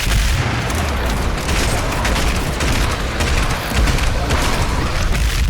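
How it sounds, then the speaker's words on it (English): Combat shotgun blasts in Doom Eternal, heavy booming shots in quick succession layered with dense game action and impact noise, loud and continuous. "Doom Eternal redefines the standards for great enemy impacts and reactions, with the combat shotgun offering you the most visceral experience there is"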